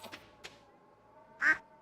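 A duck in the Stardew Valley farming game gives a single short, clear quack near the end, preceded by two faint softer blips over quiet game ambience.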